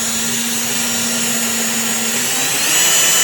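A power drill whines steadily while drilling a dimple during a Bonafide SS rudder kit install, a sustained high-pitched motor tone that rises slightly in loudness near the end, with no talking.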